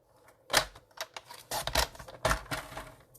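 A paper trimmer slices cardstock during card making, giving several sharp close clacks and sliding cuts in an uneven rhythm with quiet gaps between them.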